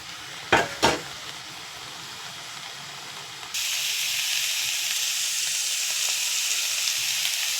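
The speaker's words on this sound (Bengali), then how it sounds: "এই যে মশলাগুলো থেকে তেল ছেড়ে দিয়েছে, এখন আমি দিয়ে দেব ভেজে রাখা আলু আর ফুলকপি।" Spices fry in oil with a steady hiss, a couple of sharp knocks near the start, then a louder, brighter sizzle as fried potatoes and cauliflower are added and stirred.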